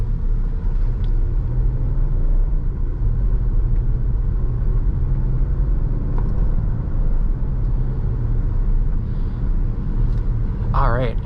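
A 2014 Audi Q7 Premium Plus 3.0T accelerating after leaving a gravel road, a steady loud cabin rumble of engine and road noise heard from inside, with a person talking over it.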